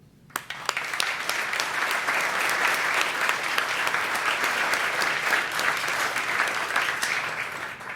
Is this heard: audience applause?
yes